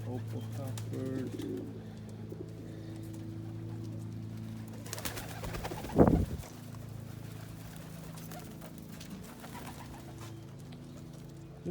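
Pigeons including Andalusian and opal cockbirds in a loft fly pen give soft, steady low cooing throughout, with a brief burst of wing flapping or scuffling near the middle, under a continuous background hum.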